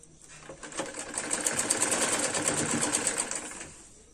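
A sewing machine stitches a seam of a full-flared semi patiala salwar in one steady run of about four seconds, the close motor whirring as it rises and then fades.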